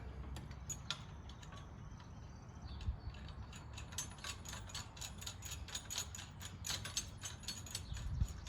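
Quiet metallic clicking of a ratchet snugging a nut onto a bolt with flat and lock washers, on a camper bracket, in short bursts of rapid ticks against a faint background hum.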